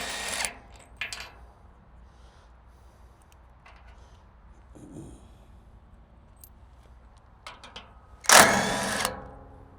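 Impact wrench loosening the blade bolts on a Först TR8 tracked wood chipper, heard as a few short bursts of tool noise spread across the clip, with one loud closing burst.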